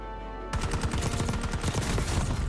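Rapid automatic fire from a Model L rifle in the Warzone video game, a dense run of close, loud shots starting abruptly and continuing without pause.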